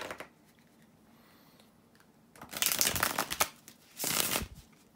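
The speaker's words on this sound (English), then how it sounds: "bear with me a second, guys, to shuffle the tarot cards." Tarot cards are shuffled in two brisk riffling bursts, close and crisp, after a quiet pause; no one talks.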